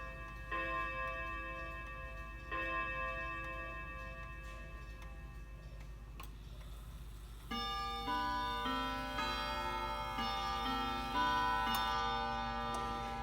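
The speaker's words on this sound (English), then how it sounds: "I'm going to start with the Westminster chime, since that's what most people know" An Ansonia granddaughter clock rings out its Westminster chime, with clear ringing tones struck one after another and layering into sustained, overlapping notes, over a soft background tick; nobody speaks.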